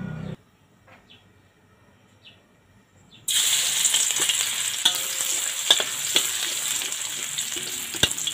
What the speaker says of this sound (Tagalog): napainit tayo mantika, guys, para i-ano natin, i-deep fry natin yung ating garlic